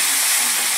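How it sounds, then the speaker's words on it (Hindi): Tomato masala frying in oil as a small spoonful of kasuri methi is stirred in, giving a loud, steady, close sizzle and hiss with no voice. "इसी स्टेज पर मैं इसमें डाल दूंगी 1 छोटा चम्मच कसूरी मेथी और इसको भी मिक्स कर देंगे।"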